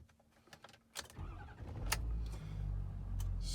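A pickup truck engine starts up, with a crank and catch around the one-second mark settling into a steady idle rumble, preceded by small cabin clicks and handling noises, heard close inside the cab.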